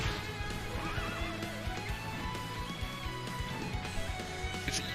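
A horse whinnies in the Sengoku Basara 4 video game, set over a dense, steady bed of game music and battle noise with no pauses.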